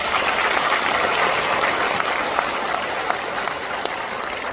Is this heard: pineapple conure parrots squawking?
no